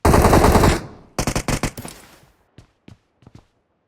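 Automatic gunfire from the battle-royale game PUBG: a long continuous burst, then a rapid run of sharp separate shots fading into a few faint, scattered cracks, loud and close with no voices over it.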